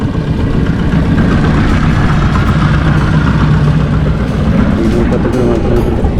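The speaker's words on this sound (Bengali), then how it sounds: "এই ট্রলারটা কোথায় যাবে এই ট্রলারটা এখন হাটে মাল উঠবে" A motorised trawler's engine drones in a steady, low throb on a river near Munshiganj, loud and close with constant wind noise, and a voice talks briefly over it.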